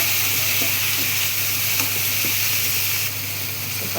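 A medium-size tomato sizzles steadily in hot oil while being stirred, with soft scraping stirs popping up every half second or so over a continuous frying hiss.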